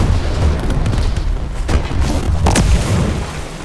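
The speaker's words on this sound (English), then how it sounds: "The explosion obviously alerted the other drone" A C4 explosion in the video game Ghost Recon Breakpoint: a deep booming blast with rumbling low end, followed by a sharper burst near the middle, set over a steady game ambience.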